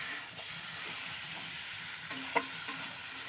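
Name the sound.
pangas fish frying in spice paste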